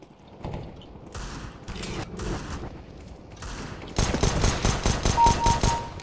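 Heavy gunfire in CS:GO, with scattered shots early on and then a loud, sustained automatic burst of rapid, evenly spaced cracks, close and dominant with no talking.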